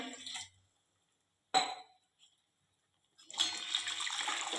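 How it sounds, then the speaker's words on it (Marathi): Water is poured into a pan of yogurt kadhi with turmeric in two brief splashing bursts separated by quiet, then a longer steady pour that continues to the end, close and alone. "वरून गरजेनुसार पाणी घालूया"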